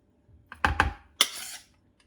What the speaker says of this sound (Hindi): अब ये चीजें इसमें डाल के अच्छी तरह मिक्स कर लेंगे